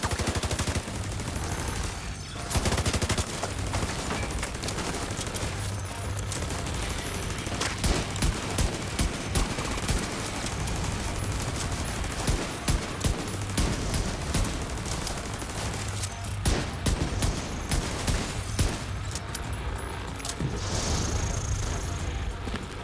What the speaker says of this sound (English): Oh, the shotguns are just something fucking else.